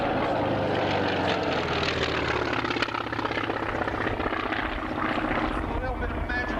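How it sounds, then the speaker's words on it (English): Propeller engine roar of an FM-2 Wildcat fighter making a high-speed pass at an air show, loud and continuous throughout, with a commentator talking over it. "And that is the aircraft, the FM-2 Wildcat, that came well before the Hellcat, Corsair."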